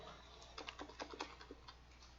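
Quiet, rapid clicking of keys on a computer keyboard, a short run of about a dozen light taps close by over a low steady hum.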